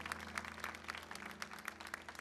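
A church congregation applauds, a fairly faint, dense patter of clapping that runs continuously over a low steady hum.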